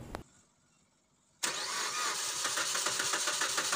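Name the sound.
Suzuki Swift car engine starting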